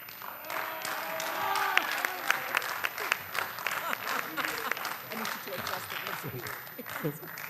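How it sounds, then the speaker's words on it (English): Audience applause fills a school board meeting room, dense steady clapping with a few voices and cheers mixed in throughout, moderately loud and sustained. "I want a big round of applause for putting this on, all right?"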